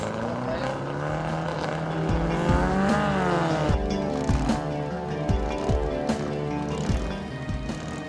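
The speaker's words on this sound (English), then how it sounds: "Race cars versus road cars." Race cars and road cars circling a track at an Austin-Healey Sprite event, engines droning and shifting pitch as they pass, with tire noise and a steady, fairly loud mix of several vehicles.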